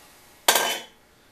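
A single sharp hammer blow rings on sheet metal being pounded into shape, a bright metallic clang that decays quickly in a quiet workshop.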